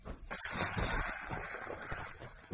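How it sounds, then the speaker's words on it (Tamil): Spice masala of curry powder, pepper, cumin and chilli powder sizzles as it fries in hot oil for a mushroom gravy, a sudden loud bright hiss that holds steady and slowly eases, close up with no talking. "மசாலையும் நல்லா பொரிய விடணும்."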